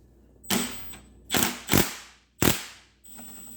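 An impact driver on an extension removes a keps nut from a Tecumseh lawn mower: four short, loud, rattling hammer bursts close up, separated by brief pauses.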